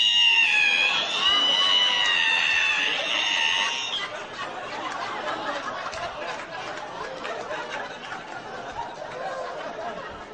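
A comedian on stage imitates a creaking ironing board opening, a long, high, wavering creak for a few seconds, followed by faint audience murmuring and laughter.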